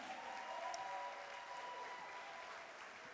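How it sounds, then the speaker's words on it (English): An audience at a Premier's Concert applauds with a steady, dense clatter of clapping that fades slightly near the end, heard without voices. "Can we give him a loud round of applause,"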